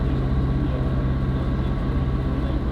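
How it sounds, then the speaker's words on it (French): Loud, droning engine roar with a steady low hum, heard from close inside a small aircraft cabin, continuous throughout. "ça fait énormément de bruit. Le moteur est relativement proche du cockpit"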